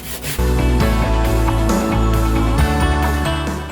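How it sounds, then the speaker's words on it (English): Sandpaper lightly sands a wooden picture frame, a steady close scratching rub that continues evenly for a few seconds with no talking. "I've got a bit of sandpaper, just going to lightly sand it to give it a bit of a stressed look"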